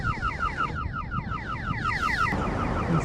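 An electronic car alarm in New York sounds fairly loud nearby, cycling through rapid repeating warbling chirps for a couple of seconds before it cuts off, leaving a noisy background.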